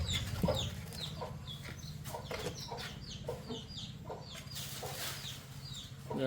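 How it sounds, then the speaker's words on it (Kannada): A chick cheeps in quick, repeated high peeps over low clucking from a hen nearby, a busy farmyard-like chatter with no speech. "ಕೋಳಿ ಮರಿ ನುಗ್ಬಿಟ್ಟದೆ."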